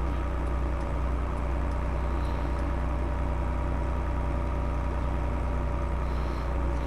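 A Fiat DT tractor engine in Farming Simulator 22 drones steadily at a low, even pitch, a continuous close hum with no talk over it.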